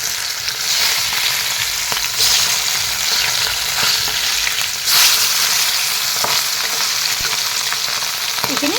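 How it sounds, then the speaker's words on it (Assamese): Pieces of fish sizzle and crackle in hot oil in a pan, being fried for a curry with green peas and cauliflower. The frying hiss is continuous, with occasional clicks and scrapes as the fish is turned. "এতিয়া মাছখিনি মই ওলটাই দি দিম।"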